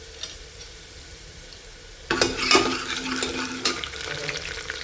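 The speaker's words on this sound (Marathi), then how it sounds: "इथे लसूण टाकून घ्यायचा आहे," Garlic frying in a pan for misal: a quiet background hum gives way abruptly to a loud, close sizzle with stirring scrapes that continue to the end.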